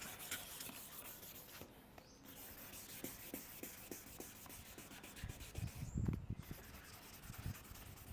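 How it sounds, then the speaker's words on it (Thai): A cloth soaked in polish is rubbed over a car headlight, making soft, close scrubbing strokes in an uneven rhythm, with a couple of heavier knocks near the end. "ใครไม่มีเครื่องขัดเราใช้ผ้าก็ได้นะครับ ผ้าชุบ ยาขัด มาถูถูถูครับ"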